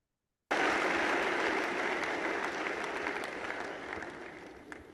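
A roomful of people breaks into sustained applause for Rishi sir at an education event, starting abruptly, loud and dense with many hands, then slowly thinning out.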